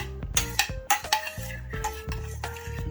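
Sauce for baked garlic lemon pepper honey buffalo wings being stirred with a spoon in a bowl, with repeated clinks and scrapes of metal against the dish in an uneven rhythm, close and fairly clear.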